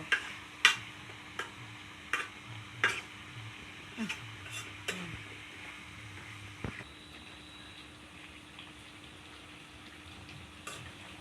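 Chicken curry being stirred and sautéed in a pan, with a series of scraping clicks and taps from the spoon, busiest early on, over a faint steady sizzle before things settle into quieter cooking noise.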